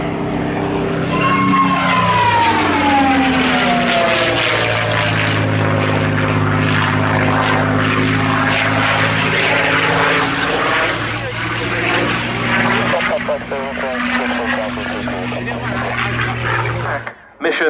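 A North American P-51D Mustang propeller fighter performs a flying display at Yeovilton, its loud piston-engine roar sustained and shifting in pitch as it passes, sweeping overhead before cutting off abruptly at the end.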